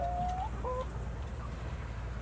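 Hens cluck softly in a brief burst of short calls over a steady low background hum, fairly close.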